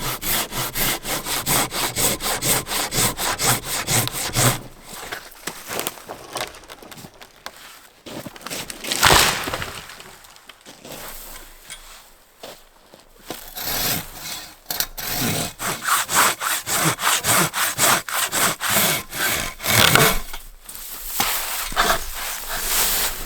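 A handsaw cuts through dead, dry hardwood outdoors in snow, rapid rhythmic strokes up close, pausing a few times before resuming.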